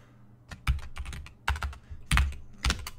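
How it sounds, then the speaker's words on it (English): Fast, uneven typing on a computer keyboard while working through a coding problem: clusters of sharp, close key clicks and heavier thumps in bursts, with no talking. "I, I don't have a problem typing. It's the keyboard."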